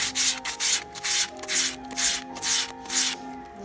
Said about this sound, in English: I'm going to take 240 grit sandpaper and sand it smooth